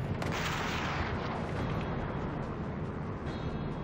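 Gunfire from a sniper duel in Call of Duty: World at War, heard as a sharp report near the start over a dense, continuous roar of battle noise and rumbling explosions that persists throughout.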